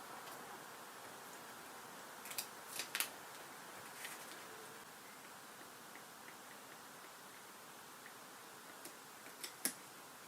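Faint scattered ticking snips of a blade cutting roughly around a large sheet of vinyl, sparse and irregular over a steady low hiss, with no voices.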